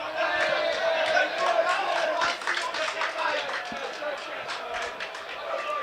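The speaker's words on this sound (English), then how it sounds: "The Chelmsford crowd doing their best to put the pressure on Gloucestershire" A T20 cricket crowd at Chelmsford, during Essex against Gloucestershire, keeps up a steady wash of cheering, clapping and shouting at a distance, with a commentator talking over it.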